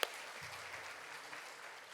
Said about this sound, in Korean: 하나님께 영광의 박수 드릴까요?